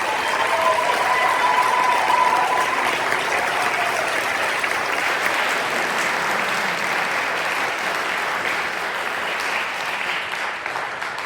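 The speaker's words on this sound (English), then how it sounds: "please join me in one more round of applause for all of our veterans" Sustained applause from a school audience honouring veterans at a high school ceremony, many hands clapping in a dense, even wash that holds steady for the whole stretch.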